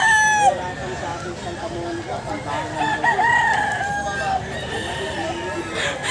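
A rooster crows loudly over a busy crowd of chickens and clucking fowl at a Sunday poultry market, with people talking in the background throughout.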